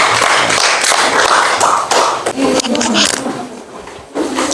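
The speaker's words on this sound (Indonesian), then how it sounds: "Kita kasih aplaus dulu untuk kelompok" Classroom applause for a student group after its presentation, a dense run of clapping from many hands that thins and breaks briefly near the end, with a voice over it.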